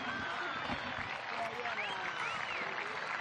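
Applause from the crowd at a testimonial football match as the players make a victory lap, a steady dense clatter of clapping throughout with speech-like chatter and voices mixed in.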